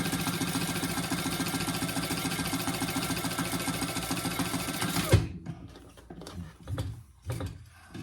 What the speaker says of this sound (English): Now I'm just going to do a little top stitching here across that lip that I created